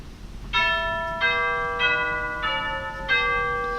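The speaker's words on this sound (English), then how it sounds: "if we get rid of the other stops and just have the chimes" The chimes stop of a pipe organ, played alone, strikes five clear bell-like tones at steady intervals, each ringing on and overlapping the next in a quiet room.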